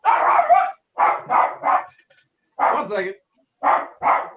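Dogs bark in loud, close bursts of two or three barks at a time, separated by short silences, with a voice speaking briefly among them.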